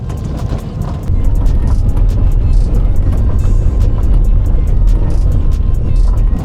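A Porsche drives along a gravel road through the woods, its loud rumbling road noise mixed with crackling stone pings and rattles that swell after the first second and continue steadily.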